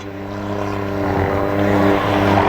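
A small fishing boat's engine revs hard up close, its droning harmonic roar steadily building in loudness with a rushing wash of water.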